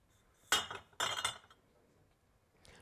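Glass bottles clink together, likely at a recycling point: one sharp knock, then a rattling cluster of glassy clinks half a second later, close and fairly crisp, with a faint tap near the end and no voices.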